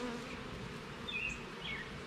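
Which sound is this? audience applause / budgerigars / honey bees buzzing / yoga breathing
honey bees buzzing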